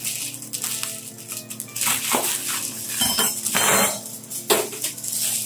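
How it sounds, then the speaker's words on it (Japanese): A knife cuts a bunch of garlic chives (nira) into 3–4 cm lengths, giving a few sharp, irregular knocks against the board with light clinks, up close over a steady background hum. "ニラを切っていきます"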